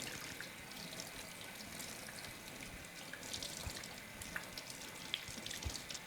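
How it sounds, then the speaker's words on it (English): Hands being rinsed of a coffee body scrub and soap under a running tap, a steady, fairly quiet stream of water splashing continuously with no voices. "I'm just rinsing everything off"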